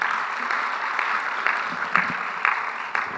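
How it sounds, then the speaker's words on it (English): A plenary session audience applauds Lorna, a steady wash of clapping at moderate distance with a few louder bursts, no talk over it. "We need to give Lorna a big, big round of applause."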